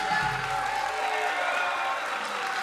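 An audience at a music workshop applauds loudly, a continuous dense wash of clapping with a faint hint of cheering over a sustained background tone.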